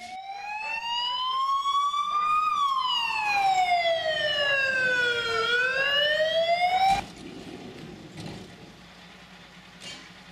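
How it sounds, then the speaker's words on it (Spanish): Ambulance siren wailing loudly up and down in long sweeping tones, close by, then cutting off abruptly and leaving quieter background noise. "Xa está aquí a ambulancia"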